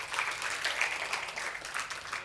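Applause from a lecture audience at a Hindi spiritual talk, steady dense clapping that fills the space at moderate loudness without any voices over it.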